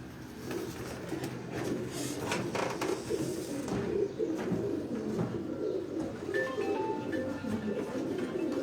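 Pigeons from a flock of about eleven coo repeatedly in soft, low, rolling calls, with a few higher chirps later, over continuous outdoor background noise and no speech.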